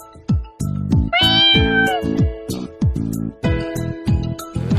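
A cartoon cat meows repeatedly in a mobile game, with loud rising cries over a bright, bouncy melody of stacked tones.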